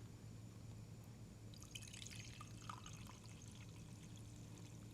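A drink poured from one vessel into a new cup while coffee-style drinks with steamed milk and froth are being made: a soft, steady liquid trickle with light splashy drips, close by, over a low constant background hum.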